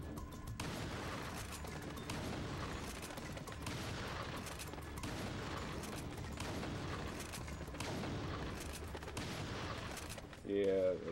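Shotgun fire at a practice range in Resident Evil 4 on the Wii, dense repeated blasts and mechanical clatter running nearly continuously, with a short voice near the end.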